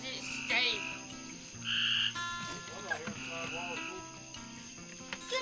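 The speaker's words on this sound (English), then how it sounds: "These frogs are good climbers." Frogs croak on a farm in short, repeated calls, some louder bursts rising over a steady background of other croaks and faint chatter nearby.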